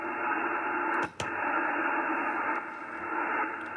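Broadband hiss and static from a radio receiver connected to an off-center fed dipole antenna, a steady loud noise floor with one brief dropout near the middle and a slight shift in level toward the end.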